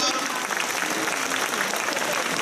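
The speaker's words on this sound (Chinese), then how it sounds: "大家为他们鼓掌" Hall audience applauding wartime veterans as they stand, a dense, even burst of many hands clapping close by that holds steady throughout.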